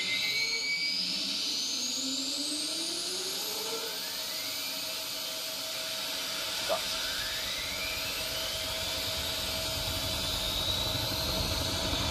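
Arma 3 helicopter with a steady, loud whining turbine and rotor roar, its pitch sweeping as the aircraft runs, filling the whole clip under occasional voices.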